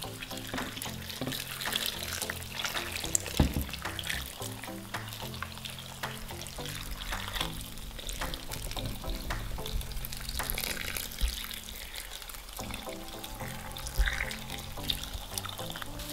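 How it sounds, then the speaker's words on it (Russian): Boiling water poured over stuffed peppers in a pot, a continuous watery splashing and trickling with a few clinks and knocks, fairly quiet and without talk. "Осталось присолить и залить кипятком, заливая кипяточком"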